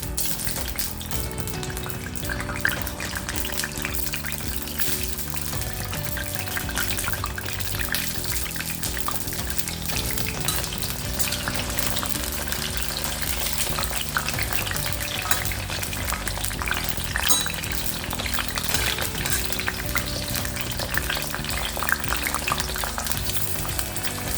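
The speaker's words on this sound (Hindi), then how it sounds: "सबसे पहले चलिए हम इस कटहल को जरा फ्राई कर लेते हैं।" Jackfruit pieces fry in refined oil with a continuous, even hiss and crackle that holds steady for over twenty seconds, with a steady low hum beneath it and no talking.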